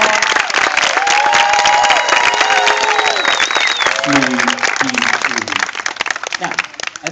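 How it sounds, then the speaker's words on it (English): A crowd at a hypnosis show at a Renaissance festival claps and cheers loudly and continuously, while a voice talks over the applause and then it starts to thin out. "a nice, loud, warm round of applause"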